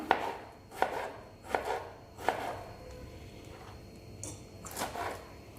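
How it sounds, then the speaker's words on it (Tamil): A knife chops tomatoes into small pieces on a board for a tomato pickle, with six distinct chopping thuds in an uneven rhythm, close and fairly quiet. "தக்காளியை சின்ன சின்ன ஷேப்பில் கட் பண்ணி எடுத்துக்கிடணும்"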